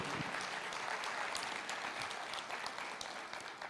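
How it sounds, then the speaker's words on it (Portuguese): A church congregation claps together during a worship service, a dense, steady wash of applause that stays loud and even for a few seconds before thinning slightly toward the end. "Glória a Deus, pode aplaudir."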